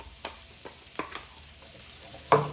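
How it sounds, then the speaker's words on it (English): Onions sauté in butter in a pan for chicken tikka masala, a faint steady sizzle broken by a few soft stirring scrapes and a sharper clank near the end. "we will saute the onions"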